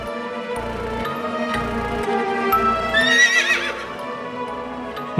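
Horses clip-clop in a steady, even rhythm beneath a sustained musical drone, and one horse lets out a loud whinny partway through in a cartoon scene.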